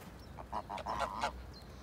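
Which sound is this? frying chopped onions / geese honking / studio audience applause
geese honking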